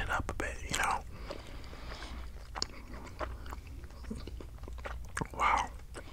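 Bubble gum chewed close to the mic, soft wet smacks and crunches in bursts, with quiet whispering throughout.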